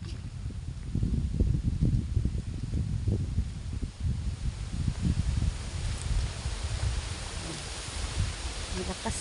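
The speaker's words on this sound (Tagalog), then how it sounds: "Malakas ang hangin." Strong wind buffets the microphone outdoors near a tall Padre Pio statue, a loud continuous rumbling gust with rustling.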